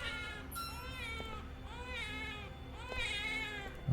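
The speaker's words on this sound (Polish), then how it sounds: "Czemu dziecko płacze?" In the video game Bad Dream: Coma, a baby cries in three repeated wavering wails, moderately loud and somewhat distant, with no one talking over it.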